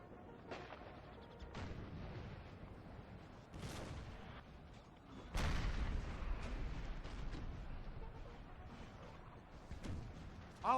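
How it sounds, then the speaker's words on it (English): Artillery fire from a Battle of Waterloo scenario in the video game Napoleon Total War sounds as distant booms and bursts at irregular intervals, one heavier blast midway, over a low battlefield rumble. "he's giving it one last go, reducing my infantry with his artillery"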